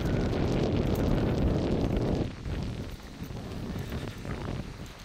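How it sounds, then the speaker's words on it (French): Loud, roaring east wind buffets the microphone near a cabin, a heavy gusting rumble that drops in strength partway through and then keeps blowing steadily without pause. "Le vent d'est."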